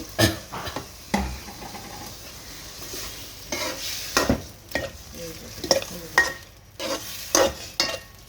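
Tomatoes frying in a pan for a tengra fish curry, a soft steady sizzle broken by repeated scraping strokes and clinks of a spatula against the pan, close and irregular, with no voices.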